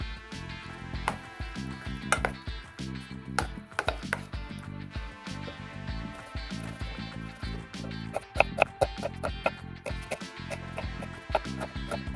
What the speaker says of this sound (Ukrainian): це порізати огірочки та цибульку